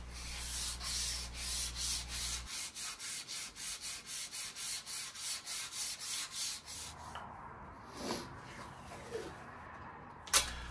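Steady rhythmic strokes of sanding on the wood of an electric guitar kit's neck, close and fairly loud for a few seconds, then fading into quieter scattered rubbing and a few light knocks.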